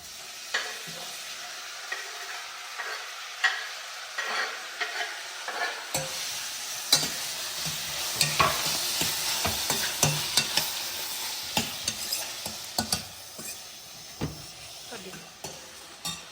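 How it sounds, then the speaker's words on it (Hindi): Tomatoes sizzle and fry with cooked onions in a pan for rajma, with frequent scraping stirs and spoon clicks over a steady close hiss that grows busier partway through. "अब इसमें डाल देता हूँ मैं टमाटर"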